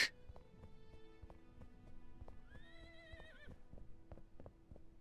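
A horse in the video game Nightsoil gives a clear rising whinny midway, with steady clip-clop hoof sounds and game ambience throughout; no voices.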